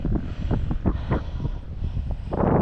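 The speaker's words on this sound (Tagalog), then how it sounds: "Lakas ng hangin mga kabisig" Strong wind buffets the microphone in heavy, rumbling gusts, loud and continuous, building even stronger toward the end.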